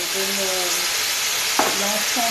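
Chopped tomatoes, onions, leeks and garlic frying in a little hot oil in a cooking pot, a steady broadband sizzle that holds throughout, with a brief stir or clatter partway through and no talking.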